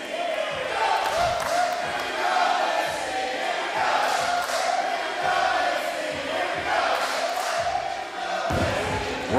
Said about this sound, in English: Rocking crowd.